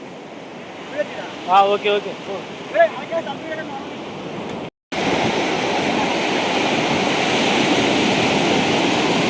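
Ocean surf at Perupalem beach, a broad wash of waves and wind roaring loud and steady, with people talking over it during the first half before the surf fills the rest alone.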